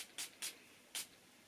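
Zara Gardenia perfume sprayed from a bottle, three short quiet hissing bursts close by, the last a little longer, in a quiet room.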